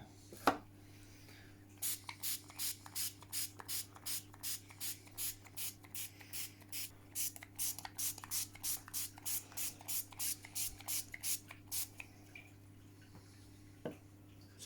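Salt water squirted from a spray bottle onto a Tamiya model truck to build rust, about twenty-five quick evenly spaced spritzes in a steady rhythm, close and crisp over a faint hum.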